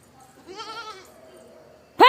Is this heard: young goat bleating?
yes